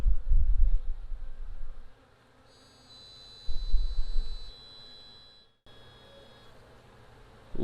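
Honey bees buzz around an open hive, with close, loud bursts of wingbeats coming and going amid a faint, steady hum.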